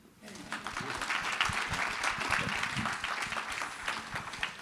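Audience applause for the next speaker at an equestrian federation congress in Avignon, a steady crowd clapping that fills the whole stretch at moderate level after a brief quiet start.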